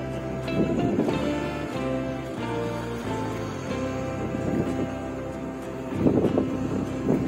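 Steady wind rushes and buffets the microphone at a river-mouth fishing spot, a constant loud roar with a few stronger gusts and no talk.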